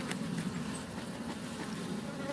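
Honey bees hum in a dense, steady swarm around open hive frames being worked and smoked, a close continuous drone with no voices.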